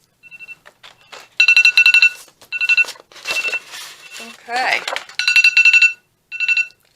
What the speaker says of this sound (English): Oh, there's my timer.